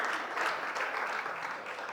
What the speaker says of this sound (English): please give her a nice round of applause for helping out